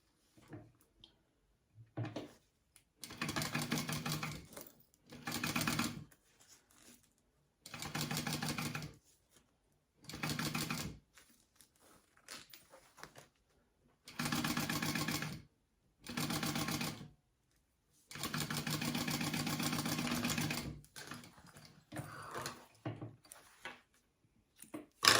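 A sewing machine stitches a zipper onto a fabric wallet in repeated bursts of rapid mechanical whirring, each run lasting a second or two and separated by quiet pauses, with soft handling noises in between.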